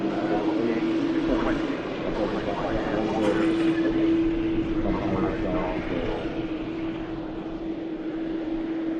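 A Boeing 787 Dreamliner operated by Norse Atlantic at Manchester Airport gives a steady, fairly loud broadband jet roar with a sustained engine whine, continuous throughout.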